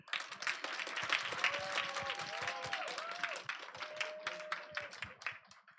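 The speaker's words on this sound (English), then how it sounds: "Let's do one big round of applause for 7th and 8th grade." Audience applause after a student's speech at an English speech contest at a Christian school, with dense, steady clapping from a crowd for several seconds and a voice speaking over it.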